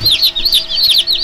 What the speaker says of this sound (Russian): сейчас мы посмотрим этот таинственный момент, когда цыплята вылупляются